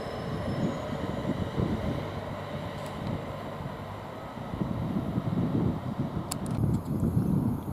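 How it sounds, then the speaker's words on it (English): A 12:58 East Midlands train from Corby to London St Pancras pulls out of Luton Airport Parkway station, a steady low rumble of wheels and wagons that swells slightly toward the end, with wind noise over the microphone. "And we'll get more of this train when it departs."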